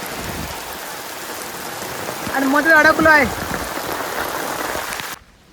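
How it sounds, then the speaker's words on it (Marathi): Heavy rain pours steadily onto surfaces at a railway station, a loud, continuous hiss that runs throughout, with someone speaking briefly over it partway through. "पाऊस पूर्ण पाऊस पडतोय"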